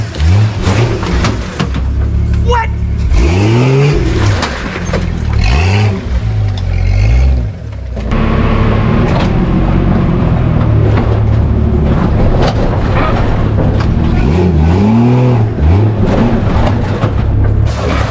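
A Jeep Cherokee engine revs hard while climbing a steep off-road hill, a loud, sustained roar with repeated rising and falling surges that persists throughout.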